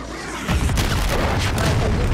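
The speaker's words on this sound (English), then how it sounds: "Cruise missile." Cruise missile strike in a Call of Duty match: a sudden deep boom erupts midway and rolls into a sustained loud rumble with crackling debris, no voices heard.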